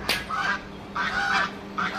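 A goose honks loudly three times in short, nasal bursts, close by at a dairy cattle farm, with brief pauses between calls and no talking.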